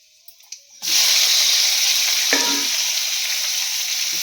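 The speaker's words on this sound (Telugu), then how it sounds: "ఉల్లిపాయ వేగిందండి" Onion with chana dal, cumin and curry leaves hitting hot oil for upma, bursting into a loud, steady sizzle after a few faint clinks, with occasional stirring scrapes over the continuous frying hiss.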